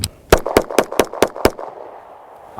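A stock Glock pistol firing a quick string of six sharp, evenly spaced shots, loud and close, followed by a brief quiet tail.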